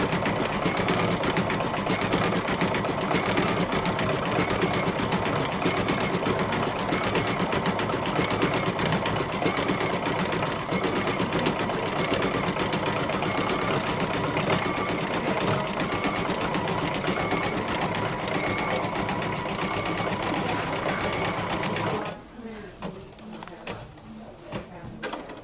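An embroidery machine stitches a chained flower-like rough-edge stitch, a steady close mechanical whir with dense rhythmic needle chatter running continuously for most of the stretch before stopping abruptly near the end.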